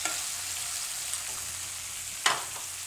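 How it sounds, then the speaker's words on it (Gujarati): Fenugreek seeds tempering in hot oil for a raw papaya sambharo, giving a steady close sizzle with one sharper spatter burst near the end. "મેથીનું બહુ સરસ આમાં વઘાર સારો લાગે"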